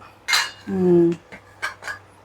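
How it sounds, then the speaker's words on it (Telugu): A metal lid is lifted off a pot of cabbage and chana dal curry: a short clink, then a ringing metallic scrape, followed by a few faint knocks, with no talking. "ఇప్పుడు మూత తీసి చూద్దాం"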